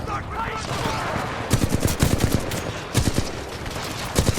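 Bursts of rapid video game gunfire from Titanfall 2, several clustered volleys of sharp close shots separated by brief gaps.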